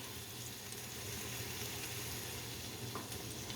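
Onions and chicken sizzle steadily in a hot pan for Coq au Vin Blanc, a close, continuous frying hiss with light stirring scrapes and no voices.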